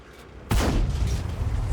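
In a tank video game a cannon fires with a sudden loud boom, and a deep rumbling tail lingers for over a second.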